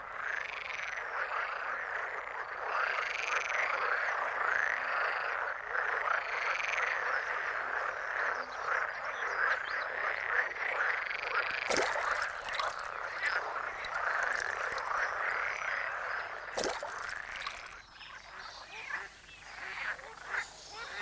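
Frogs croak in a dense, continuous chorus at the water's edge among bankside vegetation, rhythmic and fairly close, with a few sharp clicks and a quieter stretch near the end.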